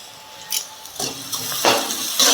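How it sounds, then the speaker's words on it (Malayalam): Onions sautéing with salt in a hot pan for a brinjal curry, a steady close sizzle broken by a few sharp stirring scrapes, with no voices. "നല്ല ഗോൾഡൻ കളർ ആവുന്നത് വരെ നമുക്കൊന്ന് വഴറ്റിയെടുക്കാം."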